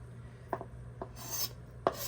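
A knife finely chopping onions for a salad, a few sparse, crisp cuts and scrapes on a board, close and fairly quiet, with no voices.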